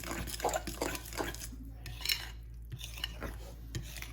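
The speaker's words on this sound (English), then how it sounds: "So we're just mixing this up until there are no more dry ingredients left" A lemon blueberry pancake batter being stirred in a bowl, with soft scraping and wet clinking of a utensil against the bowl in irregular strokes, fairly close and quiet, with no talk.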